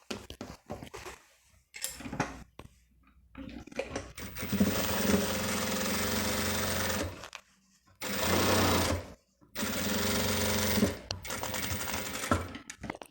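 A domestic sewing machine stitches a fabric lining for a zippered cosmetic pouch in several steady whirring bursts of rapid needle chatter, close and clear, separated by brief pauses and handling sounds.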